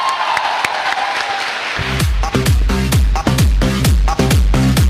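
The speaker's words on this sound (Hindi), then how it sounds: "जोरदार तालियां" Loud crowd applause and cheering fill the room, then a heavy thumping beat kicks in beneath the clapping.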